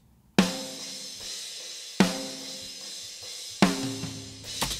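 Unprocessed metal snare drum struck three times at a slow, uneven pace, each crack ringing out with cymbal bleed washing behind it, close and fairly loud with no other sounds.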